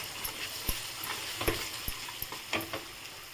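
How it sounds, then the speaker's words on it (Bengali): Ground cumin and chili powder frying in a pan on low heat while being stirred, a quiet steady sizzle broken by soft scraping knocks from the spoon, with no talking. "এটাকে কিন্তু সিম আঁচে খুব কিছুক্ষণ কষাতে হবে সুন্দর করে"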